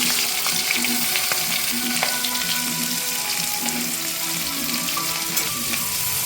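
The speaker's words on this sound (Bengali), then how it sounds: "এটাকে আমরা ভালো করে লাল লাল করে ফ্রাই করে নেব" Onions fry in hot oil with whole spices for Bengali mutton kosha, a dense, steady crackling sizzle, close and loud, with occasional stirring clicks.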